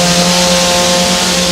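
Rallycross race car engine at Nysumbanen in Denmark, revving up through the gears, a loud, steady, close engine roar that holds throughout with a strong low drone.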